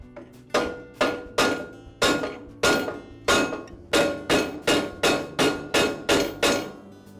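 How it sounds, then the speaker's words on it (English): Rubber mallet taps a tile saw arbor shaft into its second bearing, about a dozen sharp, evenly spaced knocks ringing out close and loud with no talking. "I'll use my rubber mallet to tap the arbor into that second bearing."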